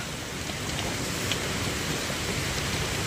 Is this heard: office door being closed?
no